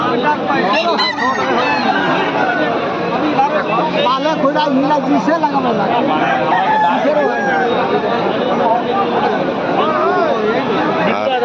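Chickens cluck and crow amid a dense crowd at a poultry market, with many people talking loudly throughout in a busy, noisy open-air market.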